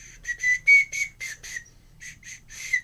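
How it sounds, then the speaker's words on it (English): Loud, shrill toy soul flute blown in a string of short high whistling bursts, a pause, then more piercing toots, sounding close with no talking over it. "What will you give me for this soul flute?"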